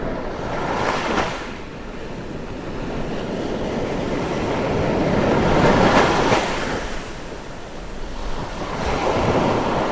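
Ocean surf rolls in and breaks repeatedly on a shell-sand beach at Kenting, Taiwan, with swelling crashes around the middle and end, plus steady wind rush and no voices.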